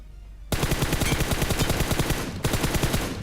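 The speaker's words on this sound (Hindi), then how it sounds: "मैं यहाँ से गोली चलाता हूँ" Rapid automatic gunfire in the mobile battle royale game BGMI (PUBG Mobile), a loud, dense stream of shots beginning suddenly after a short pause and continuing with a brief break near the end.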